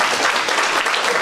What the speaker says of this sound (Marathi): एकदा परत गायकर सरांसाठी टाळ्या आहे